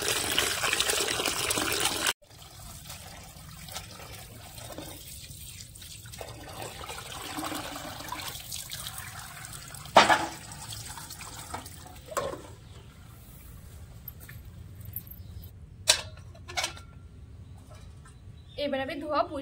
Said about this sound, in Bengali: এই যে এবার আমি পুঁই শাকটাকে সুন্দর করে ধুয়ে নেব।